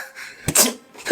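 A single sharp human sneeze, close and abrupt, with a short breathy intake before the burst and a faint trailing sound after.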